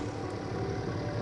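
A BMW X5 engine idles steadily after an intake air leak repair, with some intake pipes still off, giving a continuous even hum with no hiss, close up and alone.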